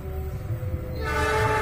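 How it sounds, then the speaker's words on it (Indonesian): A train approaches near a village cemetery in Talok, Blitar, with a loud sustained horn sounding over its rumble, rising to a steady close roar, no talk. "Itu dia teman-teman, kereta apinya sudah kelihatan nih dari sini."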